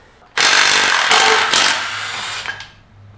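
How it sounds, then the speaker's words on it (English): A loud electric impact wrench whirs and rattles in a couple of sustained bursts during a car transmission rebuild, then winds down, close by with no talking. "I love electric impacts so much."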